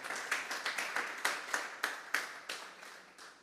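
A church congregation at a Sunday service gives God an offering of applause, a string of sharp, spaced claps that ring out and gradually fade.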